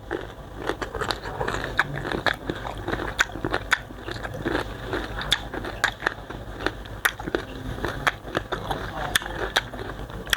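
Crisp young mango eaten with sweet fermented fish sauce, bitten and chewed close to the mic: repeated crunchy snaps and wet chewing in an irregular rhythm across the whole stretch, with faint murmuring.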